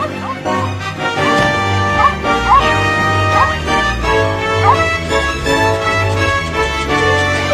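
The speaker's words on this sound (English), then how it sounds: "Mr. Greeley's dog is locked inside." Dog barking and yipping while locked inside a house, repeated bright barks over a busy cartoon music bed, fairly loud and close throughout.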